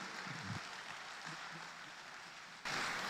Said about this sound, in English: Please continue clapping for him.